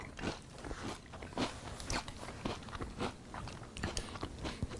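Post Nutter Butter cereal crunched in milk, with repeated loud bites and chewing crunches coming close in an irregular rhythm, no talking.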